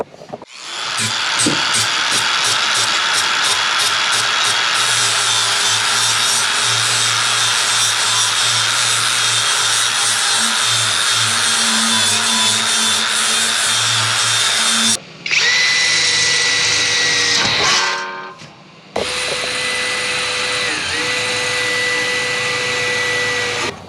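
Flap disc on an angle grinder sanding aluminium angle sections to key them for bonding solar panels to a van roof, a loud steady grinding whine for about fifteen seconds, then shorter bursts with brief pauses.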